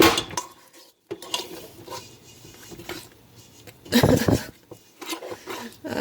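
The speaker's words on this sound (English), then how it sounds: "And this needs to be stirred in." Chocolate chip cookie dough is stirred in a bowl, producing irregular scraping, knocking and clinking of a utensil against the bowl, with bursts of louder, busier mixing separated by quieter gaps.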